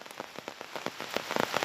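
Heavy rain pours down in the Dakshina Kannada countryside, drops pattering steadily on nearby surfaces with small uneven bursts, fairly faint overall and growing denser toward the end.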